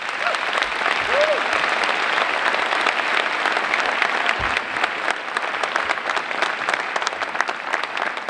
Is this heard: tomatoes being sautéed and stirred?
no